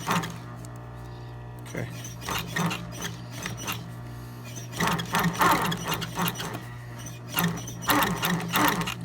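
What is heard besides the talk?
sewing machine stitching Louis Vuitton Retiro bag piping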